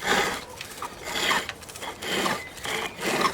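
A skew chisel cutting a spinning wood workpiece on a lathe, a steady rasping, scraping hiss that swells and eases in repeated passes, close and fairly loud with no talking.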